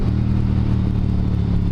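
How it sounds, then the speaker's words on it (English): A 2022 Triumph Speed Twin fitted with a Tec exhaust rumbles steadily at idle, a deep, continuous low throb with an even pulse, close by and loud, with no voices. "Love my rumbly exhaust."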